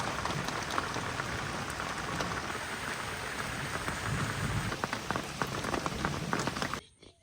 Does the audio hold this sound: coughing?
no